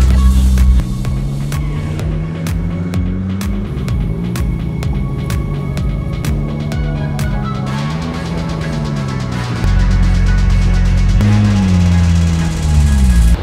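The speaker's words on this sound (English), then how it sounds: "There's still more cars arriving." Engines of several sports cars rumble and idle close by as more Porsches, including a GT2 RS Evo and a 997, pull into a meet, a steady low drone with clicks and a louder rise near the end.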